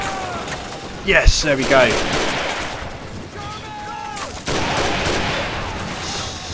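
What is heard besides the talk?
bazooka shot hitting a StuG, from video game Men of War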